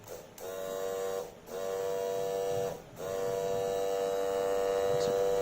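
A small electric motor powered by a 12-volt battery hums steadily with a bright, whining tone. The sound briefly dips twice early on, then runs smoothly and evenly at moderate volume.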